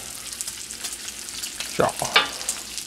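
Bacon frying on a Steelmade griddle, a soft steady sizzle with a few brief louder crackles and spatters of hot grease near the end.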